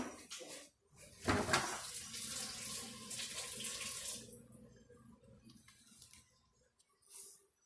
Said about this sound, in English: I'm gonna rinse my knife.